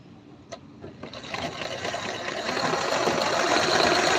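Sewing machine stitching a boat neck blouse, with the motor whirring up from quiet into a steady, loud, continuous hum that builds over several seconds and keeps running, with no talking.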